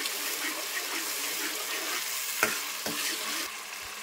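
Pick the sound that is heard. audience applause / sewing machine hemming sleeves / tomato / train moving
tomato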